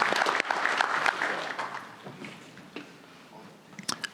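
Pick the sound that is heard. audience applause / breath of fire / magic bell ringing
audience applause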